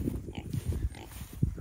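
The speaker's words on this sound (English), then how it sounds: "Come on, pigs." Kunekune pigs grunting on pasture near a fence, a run of low, close, irregular grunts and snorts with no talk over them.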